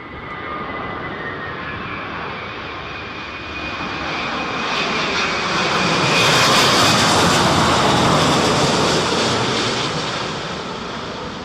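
A Boeing 787-10 Dreamliner lands at Heathrow during Storm Isha, its jet engines roaring loud and close, the roar and hiss swelling to a peak and then easing slightly as it passes, with wind noise underneath.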